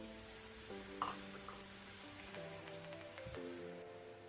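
Fresh green peas added to masala frying on a low flame, a soft continuous sizzle with a few stirring scrapes, quiet and close, with no voices.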